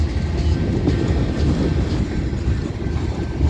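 A freight train rolls past on the rails at close range on a rainy day, a dense rumbling with rhythmic clickety-clack of wheels, loud and continuous throughout, with no voices.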